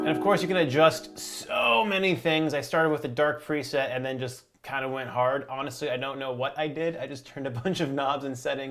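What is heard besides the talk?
No everyday noises stand out.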